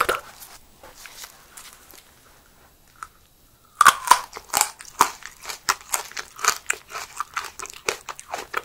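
Someone biting and chewing crunchy edible aloe with honeycomb, starting with faint rustling and then a close, dense run of loud wet crunches and crackles after a short quiet pause.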